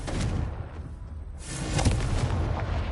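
A Confringo blasting spell going off in Hogwarts Legacy, a booming explosive burst with a rumbling tail and a second swell of blast noise, loud and close.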